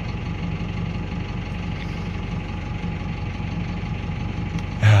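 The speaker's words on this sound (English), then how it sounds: "I think it's actually coming along to the soundtrack of this tractor." A Valtra G135 tractor engine idles steadily with a low, even diesel rumble and faint knocking pulse, close and constant, ending in a brief louder thump.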